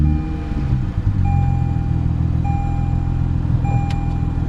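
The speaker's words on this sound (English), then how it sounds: "start her up and you guys can hear how the car sounds" A Lexus IS250 F Sport with a modified exhaust cranks and fires up, settling into a loud, steady idle right beside the listener, with a few faint electronic chimes over the engine.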